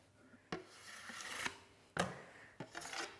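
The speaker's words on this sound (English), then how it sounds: "So keep scraping the top until the top surface is clean." Excess chocolate being scraped off the top of a chocolate mould: three distinct rasping strokes, each starting with a sharp scrape and trailing into a gritty rub, close and fairly quiet with no speech.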